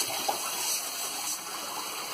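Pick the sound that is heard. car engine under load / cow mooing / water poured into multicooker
water poured into multicooker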